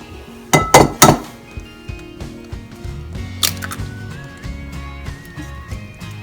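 Banana being mashed with eggs in a bowl for oatmeal pancakes, a few sharp clinks of utensil against bowl up front, then softer scraping and tapping thuds continuing at close range.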